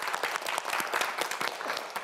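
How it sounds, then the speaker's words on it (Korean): Brief burst of studio audience applause on a Korean television quiz show, fairly close and quick, with distinct claps in an uneven rhythm. "박수 한번 보내주세요."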